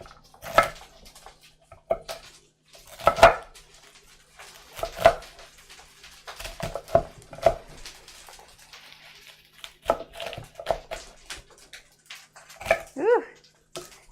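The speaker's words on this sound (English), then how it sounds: "Let's go ahead and chop up this last bunch of kale here." Knife chopping a bunch of kale on a cutting board, with sharp irregular strikes spaced a second or two apart amid quiet kitchen clatter.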